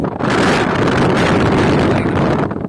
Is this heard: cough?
no